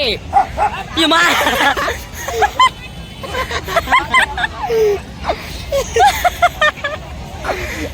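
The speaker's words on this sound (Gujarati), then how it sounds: "આ કાળું કૂતરું છે ને બટકા ભરવા આવે" A black dog barks and yips repeatedly in short bursts, mixed with people talking nearby by the sea.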